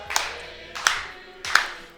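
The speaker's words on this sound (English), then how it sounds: "This clapping is poverty, I gotta say." A small group claps for a birthday cake in three thin, sparse bursts, spaced evenly apart and fairly close.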